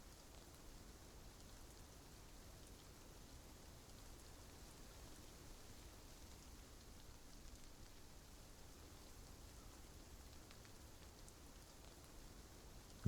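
Light rain falling, a soft continuous patter that stays even and quiet throughout, with no other sounds.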